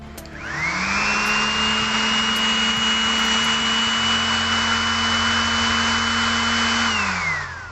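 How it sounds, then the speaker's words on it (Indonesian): A DOLIZ power sander sanding a wooden door panel for a minimalist door, starting up with a rising whine, holding a loud steady grinding hum close by, then winding down at the end. "Selanjutnya akan kita coba untuk mengamplas di bagian panel."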